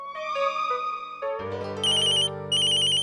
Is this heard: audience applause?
no